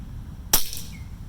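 A single sharp crack of an air rifle firing a Baracuda Hunter pellet during a pellet test, loud and close, followed by a brief fading ring over quiet background.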